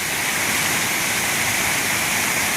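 Heavy water rushing at a fishing spot, a loud, dense, unbroken roar of fast-flowing water like a torrent or weir, close and steady throughout.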